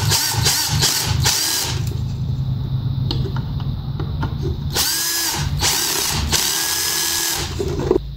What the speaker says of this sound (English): And tighten down the wood screws.